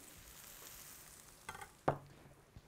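Diced onions and minced garlic fry in olive oil in a paella pan on an infrared grill: a soft, continuous sizzle broken by a few sharp metallic clinks and scrapes near the end.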